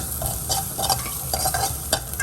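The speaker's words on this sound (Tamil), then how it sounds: "அடுத்து நம்ம வெட்டி வச்சுருக்க இஞ்சியும் பூண்டையும் போட்டு நல்லா வணக்கிடுவோம்" Chopped ginger and garlic sauté in a pan, a dense close sizzle broken by repeated stirring scrapes in an uneven rhythm, ending with a sharp clack.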